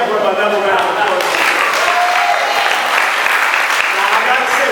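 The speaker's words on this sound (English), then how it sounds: "Give that brother another round of applause." An audience at a convention gives a steady round of applause, a thick, even rush of clapping hands that holds at full strength throughout with no clear voices on top.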